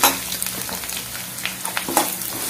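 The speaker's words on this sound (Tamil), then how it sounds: "எல்லாத்தையும் சேர்த்து நல்லா வதக்கிக்கோங்க" Garlic and onions sauté in a pan for roadside-style kara chutney, with a close, continuous frying hiss and scattered crackles and stirring scrapes.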